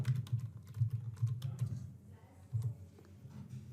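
Computer keyboard typing in quick bursts of clicking keystrokes, fairly close, with short pauses between runs and a faint low hum underneath.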